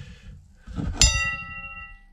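A bell rings once with a bright metallic strike and a long shimmering decay, heard over low background noise in a workshop where a front wheel bearing is being replaced on an MP3 500 scooter.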